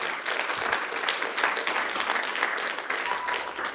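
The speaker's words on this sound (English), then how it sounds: "A round of applause for everyone that gathered at Fata Dance in Regina." Audience applause at a dance gathering in Regina, dense steady clapping for a few seconds without voices.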